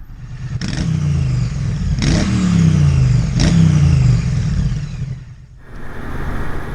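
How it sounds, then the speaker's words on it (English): A Suzuki GSX-8S with its new parallel-twin engine revs loudly and close, three rising blips of the throttle each settling back toward idle, before the engine noise briefly drops and picks up again. "this bike has a brand new engine in it. It's got a parallel twin in it"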